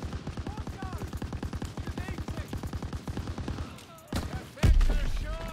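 Rapid automatic gunfire from Call of Duty WW2, a steady stream of closely spaced shots for about four seconds, then a brief pause and a couple of louder single blasts near the end.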